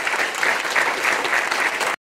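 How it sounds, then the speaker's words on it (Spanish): Congregation applauding during a church Mass after the reading, dense sustained clapping with pulsing waves, loud and full, cutting off abruptly near the end. "Démosle un aplauso a Dios con todo el corazón"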